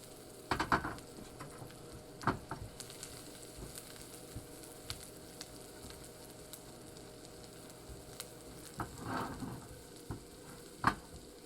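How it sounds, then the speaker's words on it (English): Onion and mushroom sautéing in a pan for an omelet, a quiet continuous sizzle broken by a few louder stirring clacks and scrapes, close by with no talking. "I'm going to put some onion in there, and I'll put a little bit of mushroom. Go ahead and saute those up a little bit."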